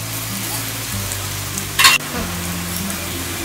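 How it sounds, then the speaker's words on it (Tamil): Onion pakoda batter sizzles steadily in hot oil, a soft continuous frying hiss with a brief louder burst of spatter partway through and a low hum underneath. "இப்போ இத நல்ல சூடான எண்ணெயில போட்டு பொரிச்சு எடுத்துக்கலாம்"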